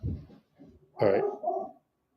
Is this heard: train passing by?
no